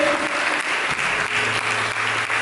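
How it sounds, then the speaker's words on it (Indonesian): Church congregation applauding during a sermon, a steady, dense wash of many hands clapping at close range that holds evenly for the whole stretch. "Coba kita sambung dengan tepuk tangan"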